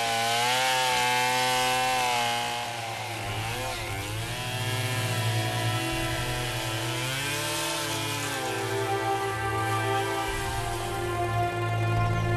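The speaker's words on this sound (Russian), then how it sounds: "Человек, может, и не царит в этих джунглях, но бензопила дает ему большую власть." A petrol chainsaw cuts through wood in a jungle, its engine loud and close with a steady high drone. The pitch dips and rises as the blade bites into the timber and then eases off.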